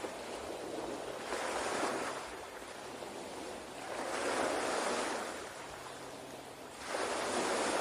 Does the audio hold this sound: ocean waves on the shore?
yes